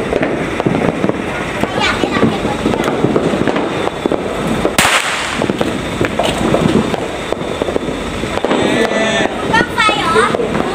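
Firecrackers bang repeatedly through a New Year 2024 countdown crowd in Nakhon Pathom, Thailand, with loud sharp cracks and sustained crackling throughout, and children's voices and chatter mixed into the noisy scene.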